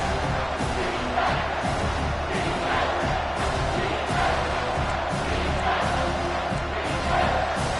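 A stadium crowd in the College Football 25 video game roars continuously at a key third-down moment, a dense, steady wash of cheering and shouting with small surges throughout.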